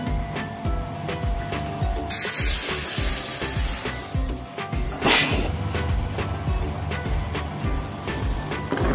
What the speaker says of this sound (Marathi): आणि ही तडका आपण मस्त असं सूप वरती घालून घ्यायचं आहे.